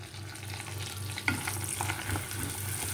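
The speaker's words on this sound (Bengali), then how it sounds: "পেঁয়াজটা ফার্স্টে আমাকে একটুখানি ভেজে নিতে হবে লাল লাল করে।" Chopped onions fry for pav bhaji in a pan over a raised flame. A continuous close sizzle carries light stirring scrapes, with a low hum underneath and no voices.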